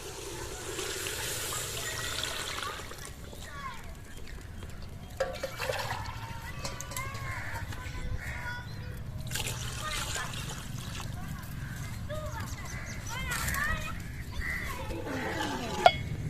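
Water poured into a pot of cooked masala for village-style matar pulao, a soft continuous trickling and splashing stream, fairly faint, with light background noise throughout.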